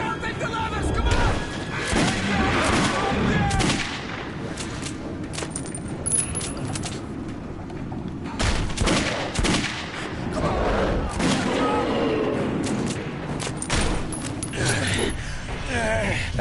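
Gunfire rings out while monsters are fought in Metro 2033 Redux: sharp, loud shots in irregular clusters, mixed with frantic shouting and other game noise.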